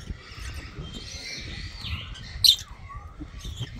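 Faint lovebird chirps and a brief squawky call over a steady background hum, small parrots calling nearby at a wildlife park.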